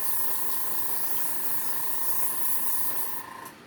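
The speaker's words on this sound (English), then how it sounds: "as I continue to just spray" A continuous close spray of alcohol ink hissing steadily for several seconds with a faint mechanical whine underneath, cutting off abruptly near the end.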